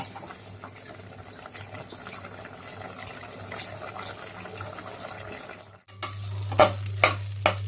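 A spoon scrapes and stirs meat in a pan on the stove as its water cooks off, with a low sizzle and a steady burner hum, growing louder with several sharp clacks near the end.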